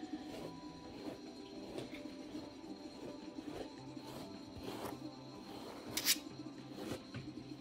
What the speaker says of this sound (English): just brushing through the fur with this one